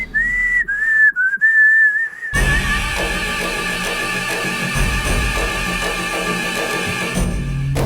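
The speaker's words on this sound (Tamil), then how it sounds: "நீ பாட்டுக்கு விசில் அடிச்சுக்கிட்டு இருக்க" A person whistles a wavering, sliding tune alone for about two seconds, clear and close, before a loud burst of background music and noise takes over.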